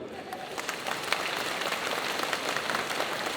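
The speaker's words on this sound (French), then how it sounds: "est-ce que ce côté-là peut applaudir pour voir comment ça fait?" Audience at a cosplay contest jury presentation at a convention claps on request, a steady wash of many hands applauding continuously at moderate volume without a clear peak.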